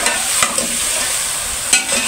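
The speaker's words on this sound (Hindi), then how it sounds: "प्याज भी साथ में फ्राई हो जाते हैं।" Chicken and onions fry in a pan, giving a steady close sizzle with stirring scrapes throughout, two sharper clatters standing out briefly, and no talking.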